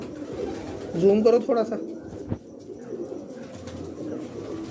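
Pigeons coo softly in a low, burbling rhythm while people talk nearby, the cooing rising briefly in the middle then settling under the conversation.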